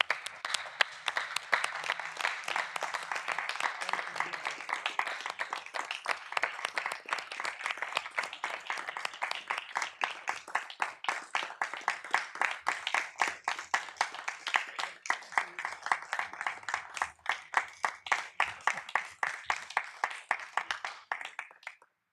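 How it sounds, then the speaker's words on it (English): A city council meeting audience gives a long round of applause and a standing ovation, steady rhythmic clapping from many hands that keeps going and grows slightly sharper and more distinct toward the end. "give you all a round of applause and a standing ovation"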